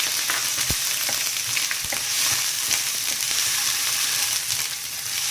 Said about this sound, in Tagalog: Dapat gisang-gisa yung luya bago isunod ang bawang.